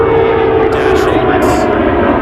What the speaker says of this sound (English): Dash 8.